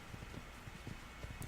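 Horse hooves clip-clop at a steady trot in Assassin's Creed, a rhythmic series of soft thuds fairly close against a constant background hiss, with no talking.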